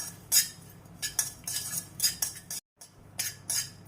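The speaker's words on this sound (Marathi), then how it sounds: "आता खसखसला पण आपण 1-2 मिनिटं परतून घेणार आहोत" Poppy seeds being stirred and roasted in a pan while making oats laddu, with repeated metallic spoon clinks and scrapes against the pan in bursts, close and moderately loud, with a brief silent gap.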